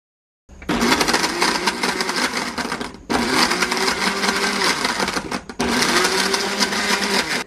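A countertop blender whirs loudly in three continuous bursts, separated by brief pauses, while it mixes a protein shake of dates, peanut butter and ice.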